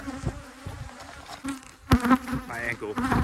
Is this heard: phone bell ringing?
no